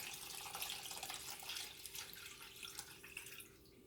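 Water from a faucet pours steadily into a pot for lemon pie filling, a continuous splashing rush with no voices.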